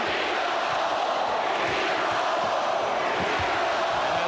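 An NBA arena crowd of about 19,000 at a 1993 playoff game, Suns versus Sonics, producing a loud, dense, continuous roar with a chant rising inside it.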